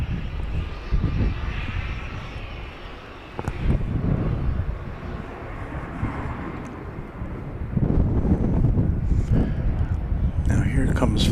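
An airliner takes off at Dallas Love Field, a moderate, distant jet roar that builds in steps and grows louder near the end, with wind buffeting the microphone and a person talking over it.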